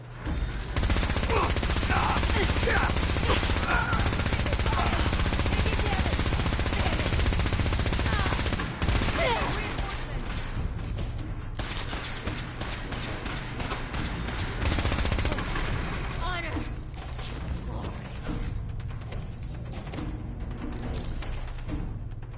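Gunfire from combat in Fallout, the video game, comes as dense, rapid automatic bursts and overlapping shots, loud and continuous for the whole stretch, with brief lulls and distant impacts near the end.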